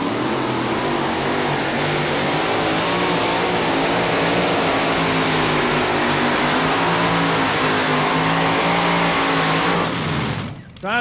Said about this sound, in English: he got a Chevy body, but that's a Hemi sitting in there making that horsepower